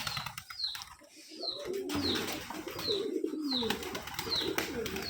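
Pigeons at a Rajshahi farm loft coo repeatedly, several close low calls layered over one another, with light fluttering and chirps in the background and no talk.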